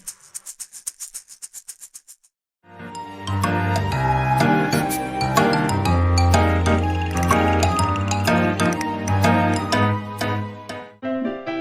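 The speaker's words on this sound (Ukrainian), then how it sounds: "піаніно це клавішний інструмент." Piano playing a lively passage of chords and melody, preceded by a short burst of light rhythmic maraca shaking, loud and close.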